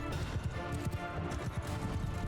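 Horse archers gallop in the video game Mount & Blade II: Bannerlord, a rapid, continuous drumming of hooves from several mounts, moderately quiet under a low rumble of battle noise.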